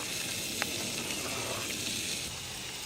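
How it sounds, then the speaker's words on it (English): Bacon and shallot frying in a metal canteen cup, giving a steady, fairly quiet hissing sizzle throughout with a single small click. "I'm going to throw the shallot in there to cook right along with it."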